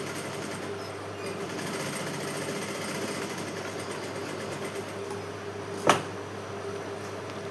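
A sewing machine runs a steady continuous stitch along the lining of a blouse neckline, close and even, with a single sharp knock near the end.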